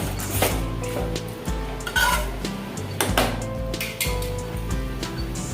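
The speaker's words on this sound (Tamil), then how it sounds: "மூடி போட்டுடலாங்க." A metal lid goes onto a pot of simmering chicken curry, giving a few sharp clanks and rattles of pots and utensils at close range, with no talk.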